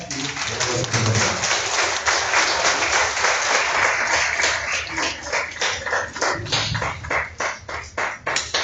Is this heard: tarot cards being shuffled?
no